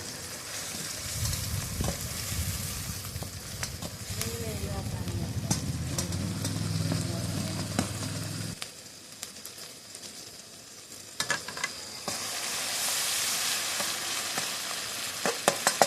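Tomatoes sizzle and fry in a pan as a spoon stirs and scrapes through them, a steady close crackle that thins midway and then picks up again with clinks of the utensil.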